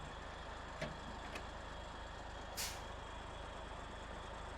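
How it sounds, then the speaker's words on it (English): A truck's handbrake set in SnowRunner, with a short burst of air brake hiss after a couple of faint clicks, quiet against a steady engine idle hum, no talk. "Let's handbrake it so I can get the camera around."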